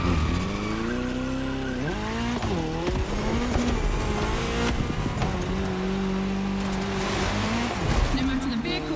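KTM and Puma race cars in The Crew Motorfest rev and shift close by, engine pitch climbing and dropping with gear changes amid tire squeal and skidding, steady and loud throughout.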